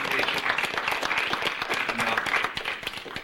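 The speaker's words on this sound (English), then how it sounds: "I'd like to give Earl a great big round of applause here for a wonderful presentation." An audience gives a round of applause after a presentation at a family history collection meeting, steady, full clapping that fills the whole stretch with a faint voice underneath.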